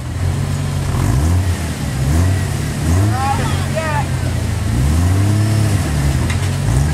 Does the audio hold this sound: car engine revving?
yes